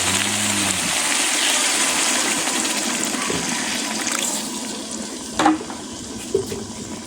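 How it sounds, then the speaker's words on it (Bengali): Water pouring into a pot of spiced country chicken on a clay stove, a steady rushing gush up close that eases off, followed by a couple of soft knocks. "এবার পানি দিয়ে দেবো"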